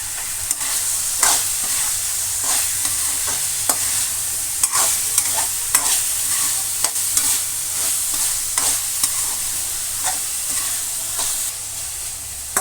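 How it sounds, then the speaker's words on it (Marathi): Soaked soybeans and tomatoes are sautéed in a pan, with a steady loud sizzle broken by regular spatula scrapes and stirring clicks every second or so, close by and without talk. "ते टोमॅटो परतल्याच्या नंतर आपल्याला हे भिजवलेले सोयाबीन घालायचे आहेत। तेही आपल्याला परतून घ्यायचे आहे।"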